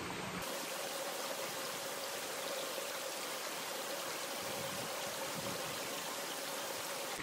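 A mountain stream flows and rushes continuously, a steady broadband watery hiss with no voices.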